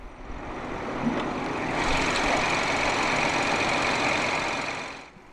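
A turbocharged 1.5-litre inline-three petrol engine in a 2016 BMW 318i runs steadily, a smooth, close mechanical drone that swells over the first two seconds, holds level, then fades at the end.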